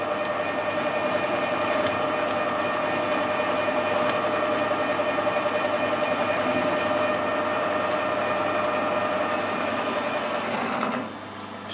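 A workshop machine with a cutting tip runs at a steady 1,000 RPM, giving a constant, loud mechanical drone with tonal whine that drops off near the end.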